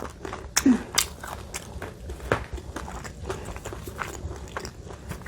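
Crisp bites into crusty bakery bread, a few sharp crunches near the start followed by softer repeated chewing and crackling, close and fairly quiet with no talk.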